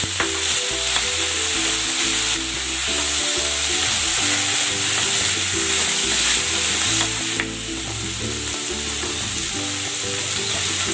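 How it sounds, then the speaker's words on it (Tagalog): Tomatoes and onion are sautéed in a pan for a chicken dish, with a loud, constant sizzle and frying hiss under intermittent stirring and scraping, close up and without voices. "Igigisa ko na rin tong kamatis."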